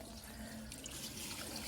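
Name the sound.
Crane Atlas toilet flushing a grocery bag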